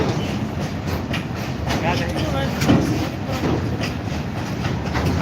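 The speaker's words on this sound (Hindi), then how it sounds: "जो माल ट्रेन अभी पास हो रहा है निर्मली रेलवे स्टेशन से" A freight train rolls past Nirmali railway station, its wagons clattering steadily close by for several seconds, with someone speaking over the continuous rumble.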